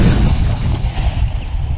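An artillery gun fires during live-fire training at a university military training centre, one heavy close boom at the start followed by a long rumbling decay.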